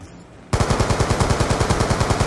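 Rapid automatic gunfire from a shooter video game, a fast, steady rhythm of loud, close bursts filling the clip after a brief quieter lead-in.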